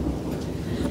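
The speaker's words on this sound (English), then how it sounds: "Is that thunder?" Thunder rumbling outside, a steady low broadband roar filling the whole second with no distinct crack, heard from indoors.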